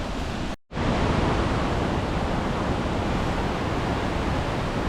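Flowing water near Welsh waterfalls roars as a dense, steady broadband rush, loud and close, with a brief dropout near the start before resuming unbroken.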